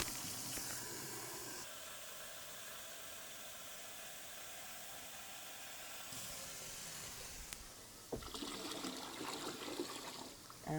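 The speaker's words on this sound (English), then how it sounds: "fill the bucket up to the 6-gallon mark with room temperature water" Room-temperature water runs into a plastic bucket for winemaking, a steady faint trickle and hiss that changes as the tap flow shifts partway through.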